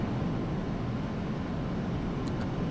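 A fighter jet in the DCS World flight simulator, sitting with the canopy open before startup, gives off a steady, loud broadband roar that holds even throughout with no voices.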